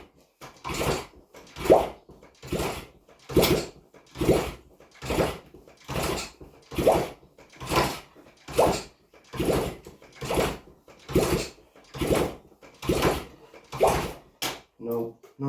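A 1971 Honda CD175 K3 motorcycle engine with new rings is cranked repeatedly without catching, giving a steady run of evenly spaced churning bursts, close and moderately loud.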